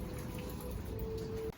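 Rain falls in the evening, a soft, continuous patter and trickle with a faint steady tone underneath, alone with no voices.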